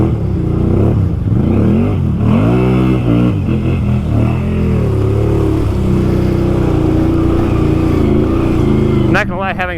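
A 2020 Can-Am Outlander XMR ATV with a swapped-in 850 engine runs loud and close, revving up and down repeatedly, with people talking over the engine noise.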